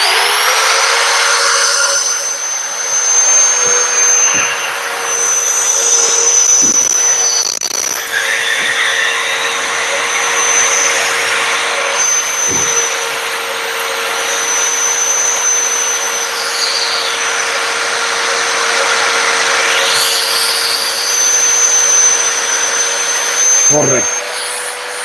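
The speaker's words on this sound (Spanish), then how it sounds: "Activo la base magnética, ya queda asegurado, y acciono el taladro, el movimiento." A DeWalt magnetic base drill bores channels into metal during a vehicle repair, its motor a steady, loud whine that runs the whole time with a few short knocks and a brief dip near the end.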